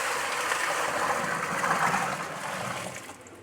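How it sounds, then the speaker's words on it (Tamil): Water from a metal pot pours steadily into a cement fish tank set up for guppies, a continuous close splashing rush that holds for a few seconds and eases off at the end. "இந்த தண்ணியை தான் இதில் வந்து ஊற்ற போகிறோம்"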